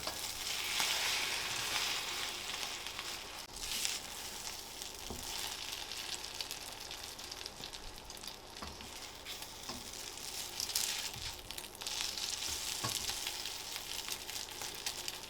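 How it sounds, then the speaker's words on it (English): Chicken and mushroom egg foo young frying in a pan, a steady close sizzle running throughout with a few faint scrapes and taps, no voices. "So over once more, finish the cooking off on the outside, and we're just about done."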